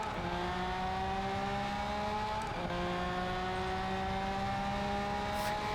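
Engines of a pack of limited edition hypercars, including a Lamborghini Sian, drone steadily in a Project Cars 3 race, with a brief shift in pitch midway, continuous and moderately loud.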